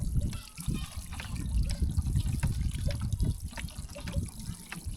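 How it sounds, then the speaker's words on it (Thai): Groundwater pumped from a well for drinking in a rural Lao village, a continuous close splashing and trickling flow of water with a low gurgle. "มาสูบน้ำบาดาลไว้กิน"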